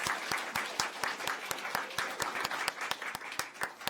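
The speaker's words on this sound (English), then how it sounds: "So let's give her another round of applause." Audience applause fills a hall at a statewide spelling bee, a dense, steady wash of many hands clapping with sharper individual claps standing out, sustained at moderate loudness throughout.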